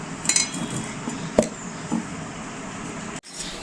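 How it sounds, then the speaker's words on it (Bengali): A metal lid set onto a cooking pot of mustard-oil fish gives a couple of brief clinks over a low kitchen hiss, close and fairly faint. "এবার আমি ঢাকনাটা মেরে দিচ্ছি।"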